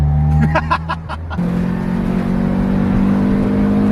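A Toyota Starlet engine with individual throttle bodies revs hard from inside the cabin, its tone climbing then settling into a loud, steady drone with an intake roar.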